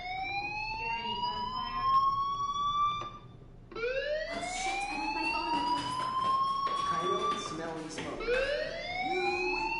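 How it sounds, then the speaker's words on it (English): A wailing alarm in the video game Life is Strange rises and falls in repeated sweeping tones, loud and near, briefly cutting out before resuming, with voices talking over it. "Hey, do you hear that fire alarm?"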